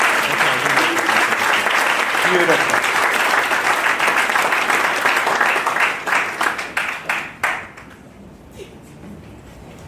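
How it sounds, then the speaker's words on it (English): An audience at a human rights dialogue event claps in a full, dense round that thins into scattered individual claps and fades out near the end, followed by quiet room tone and a brief spoken word. "I would wish that you give them another round of applause as if it's your human right to give an applause."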